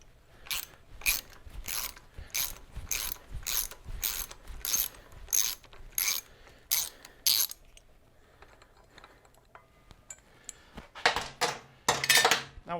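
A ratchet removes a 3/16 Allen screw from a Harley Sportster bracket, giving a quick series of close, crisp clicking bursts, a pause with faint handling, then a few louder metallic clicks at the end.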